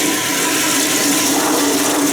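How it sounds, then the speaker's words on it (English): Older American Standard toilet with a flushometer valve in a Staunton, Virginia motel bathroom, flushing with a loud, steady rush of water that holds at full strength without a break. "We're going to give it a flush."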